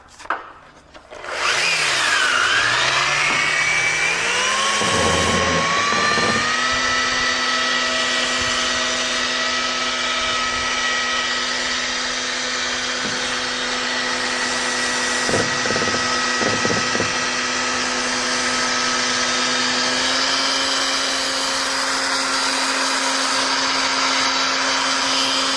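A rotary buffer polishing underneath boat cleats spins up with a rising motor whine, then settles into a loud sustained hum, with brief rubbing and scuffing bursts as the pad works the small areas.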